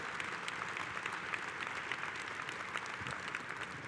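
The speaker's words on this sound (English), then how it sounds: "Give her a round of applause, our Secretary Treasurer" Steady applause from a union convention hall audience, honoring the CWA Secretary Treasurer, dense and even clapping that holds level and continuous from start to finish without any speech over it.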